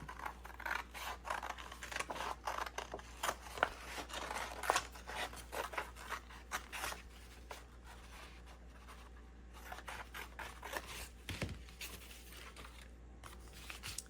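Scissors cutting out a shape, with quiet repeated snips and rustling paper or fabric at close range, busier at first and sparser later.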